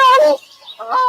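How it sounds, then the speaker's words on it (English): Grey crowned crane, the crested crane of Uganda, giving two loud close honking calls with a short pause between them, heard alone. "This is the sound of a crested crane bird."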